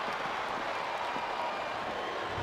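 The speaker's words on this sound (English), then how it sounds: "Now the fans start to cheer for him." A steady wash of crowd cheering and applause from a WWE SmackDown vs Raw wrestling match, a dense even roar filling the whole stretch without breaks.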